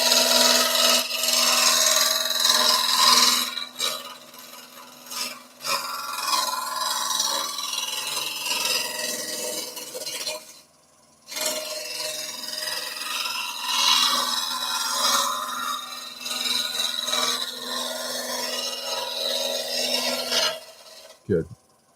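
A roughing gouge rasps against a wooden spindle spinning on a wood lathe, a steady scraping cut with brief pauses between passes, close and fairly loud, then tapering off at the end.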